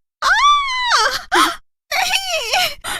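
A woman gives a loud, high-pitched scream of shock on seeing her own face in a mirror in a horror story. It comes as several strained, wavering cries with short breaks between them.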